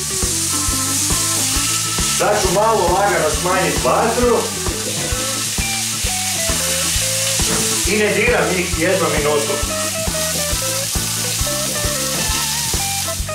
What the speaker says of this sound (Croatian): stavljam svoje ramsteke na premazanu ovu stranu uljem u tavu. I hoću čuti ono fino lijepo cvrčanje.